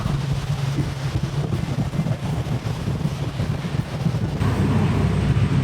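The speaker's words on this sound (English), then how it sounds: "Coming up into the harbor, it's super windy, sorry." Strong wind buffets the microphone aboard a luxury yacht coming into harbor, a loud continuous roar of gusts and rushing air with engine and water noise underneath, swelling slightly toward the end.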